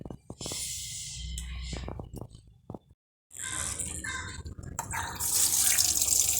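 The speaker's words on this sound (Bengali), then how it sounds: "ভালো করে ধুয়ে নিতে হবে শাকগুলো ভালো করে পরিষ্কার করে ধুয়ে নেব" Leafy greens are rinsed under a running tap, with steady splashing and dripping water that briefly cuts out, then resumes, growing stronger toward the end.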